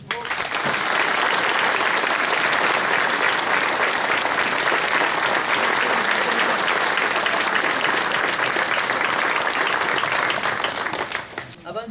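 Loud, dense applause from an audience at a 14 July ceremony honouring the Bessan firefighters, continuous even clapping that swells quickly and holds steady before tailing off at the very end.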